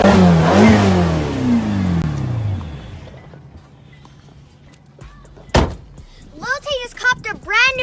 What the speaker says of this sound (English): Lil Tay just copped a brand new Ferrari.